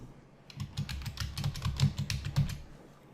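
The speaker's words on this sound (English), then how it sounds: "and then I'm going to just type abstract in all lowercase letters." Quick, close keystrokes tapping on a computer keyboard, an irregular patter of soft clicks for about three seconds with no voices.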